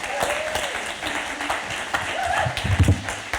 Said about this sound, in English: give a round of applause for Doug Cody